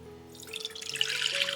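Warm water at about 30 degrees runs and trickles into a bowl for Ukrainian bagel dough, a soft close pouring and splashing that builds after a quiet start.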